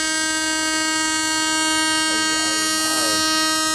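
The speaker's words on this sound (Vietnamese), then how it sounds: "Không biết tại sao ai mà thiết kế cái tiếng kèn lớn dữ vậy." A 2,000-ton twin-engine river barge sounds a loud, sustained horn, a steady tonal blare over a continuous engine rumble, heard close with a slight wavering rise near the end.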